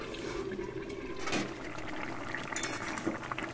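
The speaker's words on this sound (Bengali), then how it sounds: "এবার মাছটা আমি ঢাকা দিয়ে দেবো।" A metal lid clinks onto a pot of fish curry, a few sharp clatters with a light bubbling, watery background, fairly quiet and without talk.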